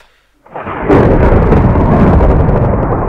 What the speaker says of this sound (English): it's a real storm out there